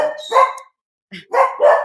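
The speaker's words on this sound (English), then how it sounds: "my dogs are going nuts" Several dogs barking excitedly indoors, loud close barks in two short bursts separated by a brief pause.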